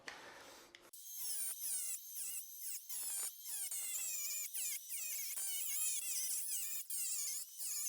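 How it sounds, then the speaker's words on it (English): An angle grinder with a stone blade cuts soft slate tile. It makes repeated loud, high-pitched whining bursts broken by short gaps as the blade bites into the stone and lifts off again. "on soft stone like this, you can just use a grinder blade like this and just go all the way around"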